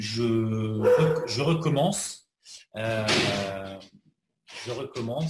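Dog barking indoors during a conversation, short sharp barks mixed in and under someone speaking French nearby.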